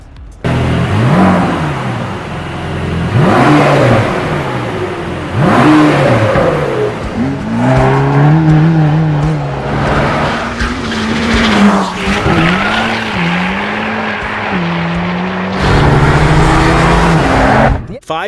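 A Mercedes-AMG V8 car accelerates hard again and again, engine note climbing through gears with rising revs and tire squeal, loud and close, under a voice talking.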